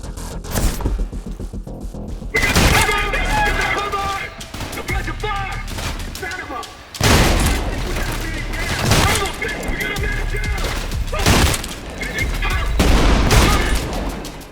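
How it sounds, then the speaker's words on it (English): Punchy automatic gunfire from the shooter game Trepang2 comes in heavy volleys with loud booming bursts between short lulls, and shouted voice lines mix in with the shots. "The gun sounds are visceral and have a distinct punch to them."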